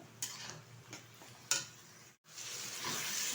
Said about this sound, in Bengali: ঝিঙে আর আলুটা কিন্তু মশলার সাথে ভালোভাবে কষিয়ে নিয়েছি